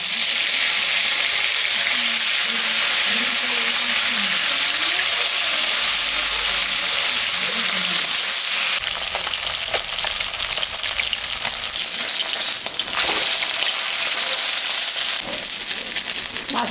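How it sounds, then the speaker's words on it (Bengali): Rohu fish seasoned with salt and turmeric sizzling in hot mustard oil in a kadai, a loud continuous crackling fry with occasional sharper spits and pops. "মাছটা এখন আমি ভাজবো"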